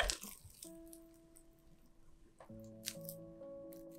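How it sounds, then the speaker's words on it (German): Wet hands stretch and fold sticky bread dough, giving soft squishy, sticky slaps and squelches close up, with sustained background music tones underneath. "hebe dann eine Seite des Teiges, ohne ihn zu quetschen, hoch, ziehe ihn schön in die Länge und lege ihn auf die gegenüberliegende Seite"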